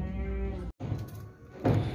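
At a livestock market a tall white and red goat gives a close, loud bleat, then another wavering bleat after a short break.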